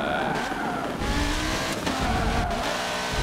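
A race car in Forza Motorsport 7 sliding across grass, engine revving and tyres scrubbing in a continuous skid, loud and close with no talk.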